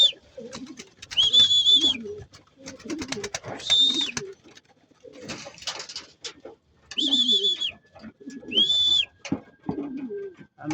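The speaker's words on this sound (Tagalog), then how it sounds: "Yun ang dami ng kalapati nagdaanan no." Pigeons coo in repeated bursts at a racing pigeon loft in Plaridel, Bulacan, their low throaty calls close by and alternating with short gaps, while a few higher chirps sound in between.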